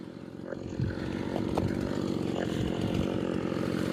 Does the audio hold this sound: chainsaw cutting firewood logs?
yes